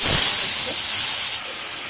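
Cumin seeds and a dried red chilli sizzle hard in hot oil for a soyabean curry gravy, a loud, close, steady hiss that drops to a softer sizzle near the end.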